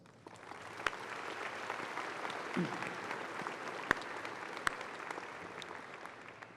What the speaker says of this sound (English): Would you please give a big round of applause to the local organizing committee, the iHEA staff, and all the iHEA volunteers.